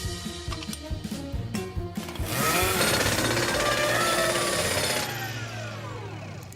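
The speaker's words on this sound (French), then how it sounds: "Et si je prenais le fameux tournevis supersonique numéro 9?" A cartoon supersonic screwdriver, number 9, fixing a damaged scooter: quick rattling mechanical clicks give way to a loud, steady whirring buzz with sweeping whines for several seconds, then it cuts off into a low fading hum, with no talking.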